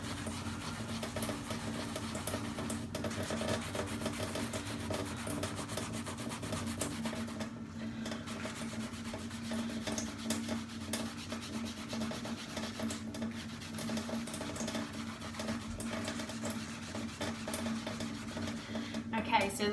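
A sponge scrubs hands and arms during a veterinary surgical scrub, giving a continuous close, rhythmic rubbing and swishing that runs steadily under a person talking.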